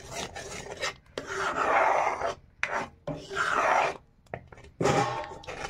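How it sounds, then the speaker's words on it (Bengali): A spoon continuously scrapes and stirs thick kheer in a pan. The close, rough rasping strokes come in long sweeps broken by short pauses, with no voices. "অনবরত নাড়তে হবে এটাকে, নয়তো নিচ থেকে লেগে যাবে।"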